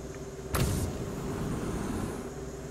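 Vehicle engine in a Malayalam-voiced multiplayer shooter game: a steady motor drone runs throughout at moderate level, with a sharp burst of noise about half a second in that briefly rises above the hum.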